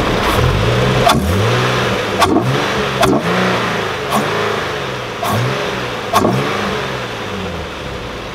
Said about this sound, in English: So that's the cold air intakes.